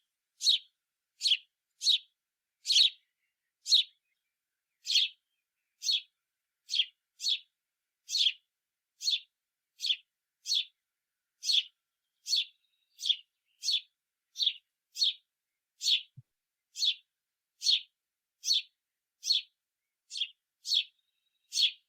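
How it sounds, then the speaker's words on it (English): A house sparrow gives a long series of sharp chirps, one at a time in a fairly steady rhythm, clear and close against near silence. "it's a pretty distinctive call that you can learn to identify as the house sparrow"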